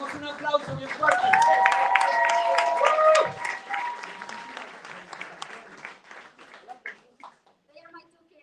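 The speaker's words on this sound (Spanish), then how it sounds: "Le damos un aplauso bien fuerte." At a citizenship clinic, an audience breaks into applause that swells, holds strong for a couple of seconds, then thins into scattered claps and fades, with voices and a child's speech mixed in.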